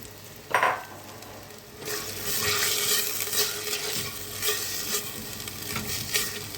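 Chicken and onion fry in ghee in a pan, a steady close sizzle broken by a few sharp stirring scrapes, with no talk over it.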